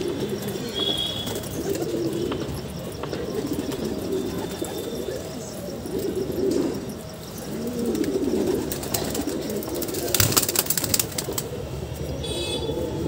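Pigeons coo repeatedly at close range in low, throaty rolls, with a few brief chirps and wing flutters mixed in.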